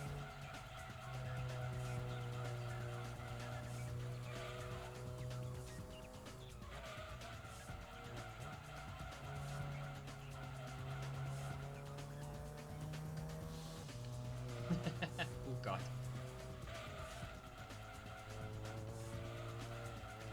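A racing car with an inline-4 engine in Gran Turismo 2 revs hard near 6,500 RPM. The steady droning engine tone climbs and shifts through gears, with tyre squeal and skidding throughout and no talk.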